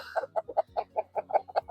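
Meat chickens cluck in a quick, regular series of short calls, close and fairly quiet, with no talking over them.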